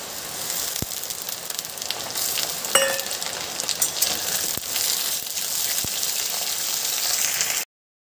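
Capsicum and potato frying in a pan for a vegetarian flour-and-paneer dish, giving a steady broadband sizzle with a few sharp clinks of a utensil against the pan, close and continuous until it stops abruptly near the end.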